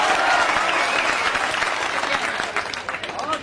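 Steady applause from a mushaira audience at an Urdu poetry recital, dense and continuous clapping at fairly close range that thins slightly toward the end.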